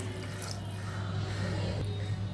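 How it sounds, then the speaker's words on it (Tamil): Water poured from a vessel into a pot of pepper rasam made with coconut milk and tamarind, a soft, brief splashing trickle heard close up against a low background hum. "இப்போ இதில் தேவையான அளவு தண்ணி ஊற்றிக்கலாம்"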